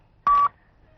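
A single short telephone dialing tone beeps once, clean and steady for about a quarter second, then cuts off into near silence.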